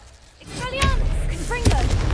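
Spell blasts in the Hogwarts Legacy video game: a few sharp magical bursts with ringing, whooshing tails over a low rumble, close and loud, with a voice briefly heard.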